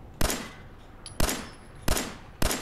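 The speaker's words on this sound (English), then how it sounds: "if I was to look over here and fire my gun" Four sharp gunshots from a weapon in an Oculus Quest 2 VR game, fired at a steady pace about half a second to a second apart, each a loud crack with a short decaying tail and nothing else in between.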